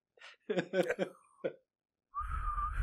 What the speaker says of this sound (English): He tried to whistle.